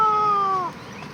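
A sick cat with flu and cough gives one drawn-out meow, falling slightly in pitch, while being held for liquid medicine drops, close and clear.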